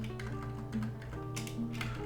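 Rapid, close computer keyboard typing during a Dwarf Fortress game session, with irregular clustered keystrokes over a low steady background hum.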